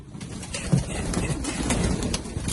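Pigeons coo softly inside a dovecote, low repeated murmurs amid rustling and faint movement nearby, fairly quiet and close.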